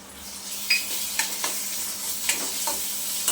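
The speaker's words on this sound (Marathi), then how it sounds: "आल्याचा आणि लसूणचा कच्चेपणा जाईपर्यंत आपल्याला हे परतायचं" Ginger, garlic and chili paste sizzles steadily with fried onions in a pan, broken by several distinct scraping stir strokes, close and clear with no talking.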